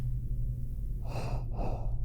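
An underweight, elderly male patient with a gunshot wound to the chest, in the game Teeth of Glass, takes two breathy, gasping breaths in the second half, heard over a steady low hum with no talking.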